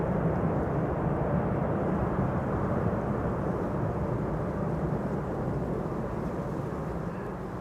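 Airliner landing on the Kaagbaan runway at Schiphol with thrust reversers deployed, a loud, continuous low engine roar that slowly eases toward the end.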